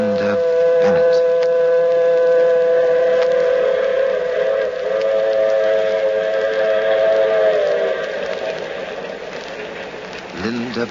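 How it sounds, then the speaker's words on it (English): Radio-drama train racing across the flatlands of the Southwest: a loud, continuous rumble and rolling clatter with a sustained whistle-like tone that fades toward the end, with no talk over it. "Yes, and the train. The shiny metal serpent racing across the flatlands of the Southwest."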